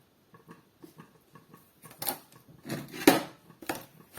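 A wooden pestle thuds into a mortar of canned young green jackfruit and curry paste, a Northern Thai dish, starting with soft irregular taps and growing into louder, heavier pounding strikes, close and without talk.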